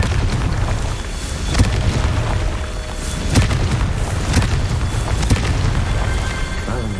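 Confringo blasting spell explosions: a steady, heavy rumbling roar with repeated sharp cracking impacts every second or so, loud and close, with no voices.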